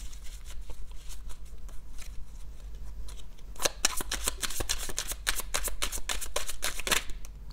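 Tarot cards being shuffled close up, a soft riffling patter that grows into a brisker run of crisp flicking snaps over a low steady hum, with no talking.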